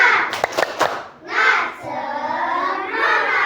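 A class of children does a rhythmic spirit clap, a quick run of sharp claps followed by a burst of young voices shouting together, then sustained chanting from the group.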